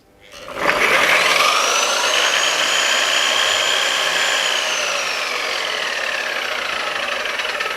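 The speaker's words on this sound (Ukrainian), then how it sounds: "Ми вимикаємо ось цією кнопкою." A BIHUI 1900W concrete grinder switched off after running: its loud, steady whine holds for a few seconds, then slowly drops in pitch as the motor spins down, with no talking.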